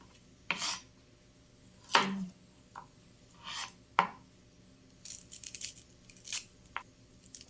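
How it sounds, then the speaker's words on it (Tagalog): Knife on a cutting board chopping garlic and onion in a home kitchen, a few separate bursts of cuts and scrapes spaced across the moment, close and fairly quiet, with no talking. "Maghihiwa na rin po tayo ng ricado. Ang ating bawang at saka sibuyas."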